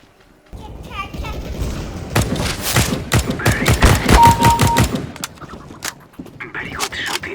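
Rapid bursts of gunshots crack in close succession during a shooting session, forming a loud dense volley midway, with people talking before and after.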